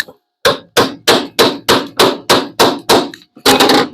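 A hammer drives tacks with about ten sharp, evenly spaced strikes, loud and close, landing in a quick steady rhythm.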